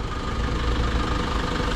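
A used Foton Aoling truck engine idles with a steady low rumble and slight knocking vibration, close and continuous, with no voices.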